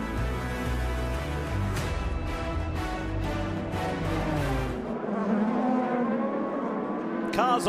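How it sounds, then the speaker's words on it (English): IndyCar race cars circle the track at the 2019 Chevrolet Detroit Grand Prix, engines whining and droning past in overlapping waves, with one car's note sliding by near the end amid a busy background. "Cars on track, sun shining in the Motor City, and ready to go racing IndyCar style."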